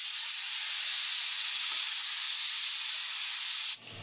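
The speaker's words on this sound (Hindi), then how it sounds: "तेल गरम हो गया है, इसमें अब हम पनीर डालेंगे" Paneer hits hot refined oil in a pan for dhaba-style masala paneer, producing a loud, steady broadband sizzle and hiss that holds for about four seconds before dropping off sharply.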